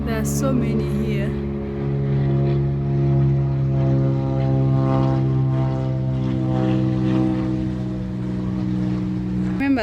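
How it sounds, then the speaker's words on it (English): A propeller airplane drones overhead for the whole stretch, a loud steady engine hum with strong harmonic bands, passing above a city game park on a nature walk, with a voice briefly heard. "Planes."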